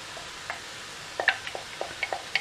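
A spoon stirs homemade passata into cooked mince sizzling in a pan for lasagne. A low, steady sizzle runs throughout under a scatter of faint, wet scraping and clicking stir sounds.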